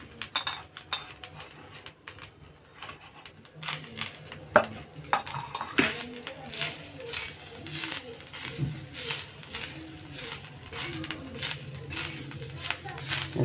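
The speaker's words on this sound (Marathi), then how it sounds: "हे आता मी भाजून घेणार सगळं" Whole spices and fresh wet coconut roast in a pan as a spatula scrapes and clinks rhythmically against the metal. The stirring is close and steady, with a voice speaking at times and faint bird calls in the background.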